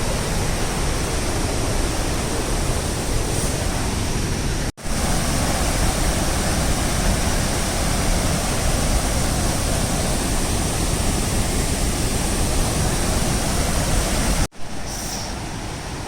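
A hidden waterfall near Aamla village in Suryamal, after the rains, roars in a loud, steady rush of falling water that fills the whole stretch, broken only by two brief cuts.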